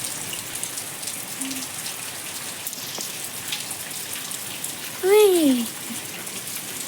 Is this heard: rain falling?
yes